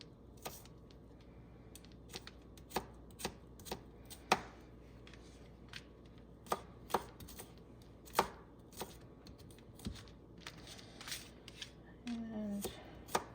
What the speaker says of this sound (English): We're going to dice up our garlic cloves.